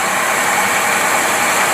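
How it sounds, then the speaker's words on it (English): An engine fitted with a Rochester Quadrajet carburetor idles steadily and evenly, running slightly rich, with a constant close-up mechanical drone and no speech. "carburetor's running almost perfect"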